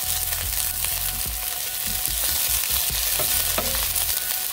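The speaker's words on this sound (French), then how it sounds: "ensuite les tranches d'oignon. Je mélange tout ça un petit" Sliced onions sizzle steadily in a hot frying pan while being stirred, with scraping and clicking stir strokes over a constant crackle and no talking.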